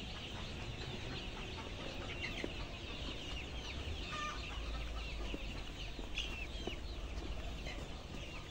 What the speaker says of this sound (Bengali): প্রত্যেকটা মুরগি প্রত্যেকটা মুরগি